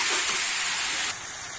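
Boiled banana flower drops into a hot pan of spices for a shrimp dish, setting off a loud, close sizzling hiss that eases to a lower level partway through.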